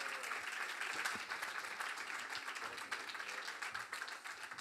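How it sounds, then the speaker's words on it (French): Studio audience applauding chefs at a French cooking competition between starred chefs, a steady, dense wash of clapping hands held at an even level throughout, with no voices standing out. "On peut les applaudir pour ces petites pitas."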